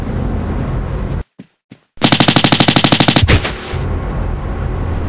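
Staged gunfire in an action skit, a loud rapid burst of machine-gun shots after a couple of brief muffled pops, with a short silence before the burst.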